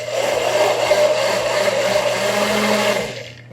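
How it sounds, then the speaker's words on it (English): A hand blender whirs steadily, emulsifying a cappuccino tart ganache with cold cream and St-Rémy brandy, a close, loud motor hum with faint rhythmic sloshing that winds down at the end, no voices. "we'll finalize it with the hand blender"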